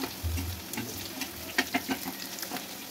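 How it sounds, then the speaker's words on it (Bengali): Meat hitting a pan with garlic and dried red chillies, giving a low steady sizzle with a few sharp stirring clacks partway through, close and moderately quiet, with no talk. "তারপরে এই যে আমি মাংসগুলো বাগার দিব।"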